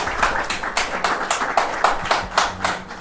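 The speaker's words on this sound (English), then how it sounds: "Let's give them a round of applause." At a lecture, a small audience gives a sparse round of applause: distinct claps land in an uneven, pulsing rhythm for about three seconds, sounding fairly close, with no speech over them.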